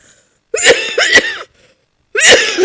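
Three harsh, close coughs from one person with a persistent chronic cough, two in quick succession then a third after a short pause.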